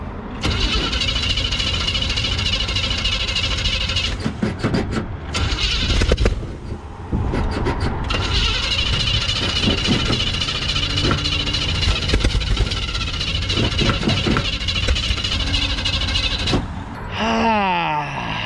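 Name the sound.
1928 Ford Roadster engine trying to start with gas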